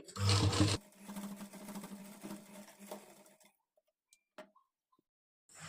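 A sewing machine runs a rough stitch along a lehenga edge in a loud, rapid whirring burst, then softer intermittent stitching and ticking clicks before falling nearly silent with a few isolated taps.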